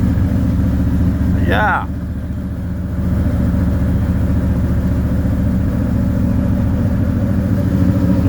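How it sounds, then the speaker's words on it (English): A 1981 Camaro Z28 engine with no choke idles on a cold start, a loud, steady, close rumble throughout with a brief rev flutter, while someone speaks briefly. "Cold start. Got no choke on this, so I gotta hold it and wait a few minutes."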